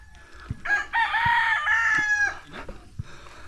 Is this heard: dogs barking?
no